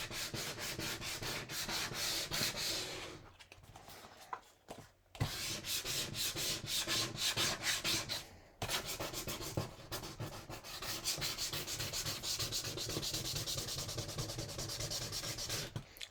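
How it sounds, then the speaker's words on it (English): Rhythmic rubbing strokes of a tool burnishing stamped ink on vellum paper, close and quiet, repeated steadily for a long stretch with two short pauses and no speech. "every time I kind of burnish this down a little bit more, it gets a little bit darker"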